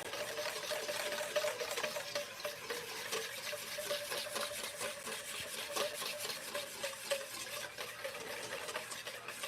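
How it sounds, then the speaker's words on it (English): A whisk scrapes steadily around a pan as a butter emulsion comes together. The strokes are quick and rhythmic with a soft swishing, fairly quiet and continuous, and no talking. "Gently whisk it."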